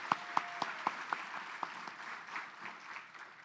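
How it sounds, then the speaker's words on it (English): Audience applause at a Long Island charity kickoff event for the American Cancer Society, a short burst of clapping that starts with a few distinct claps and spreads into moderate, slightly distant applause before tapering. "give a round of applause for Stacey Sager"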